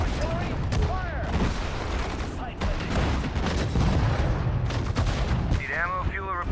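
Artillery fire in the World War II strategy game Sudden Strike 4, rumbling booms and rattling gunfire spread across a dense battle soundscape, with clipped in-game unit voice responses over the top.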